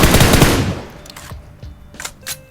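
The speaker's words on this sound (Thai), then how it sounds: "แล้วเราก็ทำการยิงด้านขวา" Gunfire in the mobile battle-royale game PUBG Mobile: a loud opening burst of rapid automatic shots fading into scattered single cracks and short bursts, with no voices over it.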